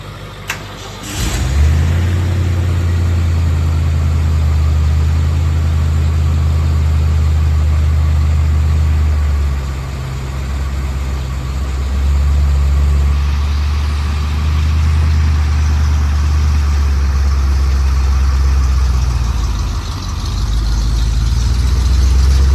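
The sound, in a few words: diesel truck engine idling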